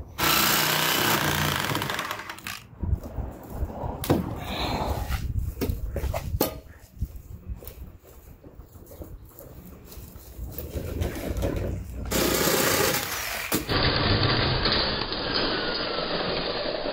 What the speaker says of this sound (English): The great thing about sawzalls is that their blades bend.